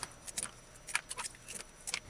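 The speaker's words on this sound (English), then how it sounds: "Use the food scissors and just cut the nails off." Quiet, repeated snipping clicks of food scissors cutting the nails off chicken feet, irregular in rhythm, close up against a low background hiss.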